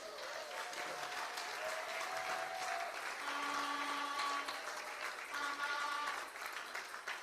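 A church congregation applauds during a service, a steady, sustained wash of clapping that fills the room for several seconds, with faint held tones ringing behind it.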